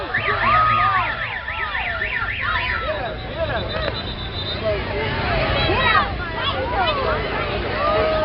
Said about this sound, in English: When the red flags go up and the siren sounds, all cars do come to an immediate stop.